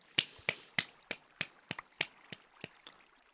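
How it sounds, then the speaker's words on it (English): Hands clapping together inside a Minecraft single-player world, about a dozen sharp, close claps in an uneven rhythm, loud at first and gradually fading, with no talking over them. "This is my hands clapping"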